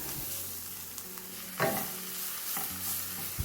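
Ginger garlic paste and spices fry in a pan while a spoon stirs them, giving a steady sizzle under soft scraping strokes and a couple of louder stirring swishes, close and without talk.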